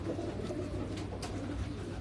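Pigeons, including striped and striped-cross birds kept by fanciers, cooing softly amid a dense, constant wash of background noise, low throaty coos blending into the ambient din.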